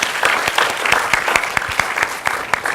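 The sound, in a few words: audience applause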